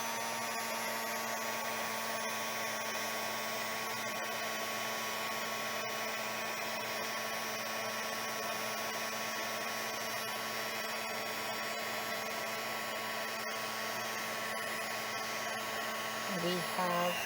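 A heat embossing tool blows hot air onto embossing powder on a handmade Christmas card, producing a continuous close, even whirring hum with no speech.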